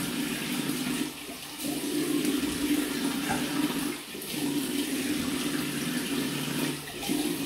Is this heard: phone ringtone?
no